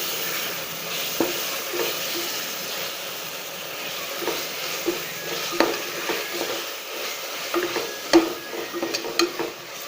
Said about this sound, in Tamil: ஒரு 3 டேபிள் ஸ்பூன் இஞ்சி பூண்டு பேஸ்ட்டு. இப்போ இதை நல்லா வதக்கலாம்.